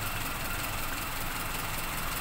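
Carbureted Toyota Kijang engine idling at low RPM, a steady, close, rough rumble with an even pulse and no speech.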